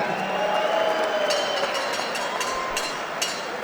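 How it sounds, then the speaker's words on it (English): Crowd at a gym fight night applauds the two fighters after their bout, a steady wash of clapping and scattered cheers with no talk over it. "let's have one more round of applause for these two men centering"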